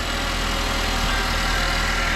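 A Nissan Juke engine with a badly leaking turbo runs steadily and loudly close by, a continuous engine roar with a rough, hissy edge and no talking over it.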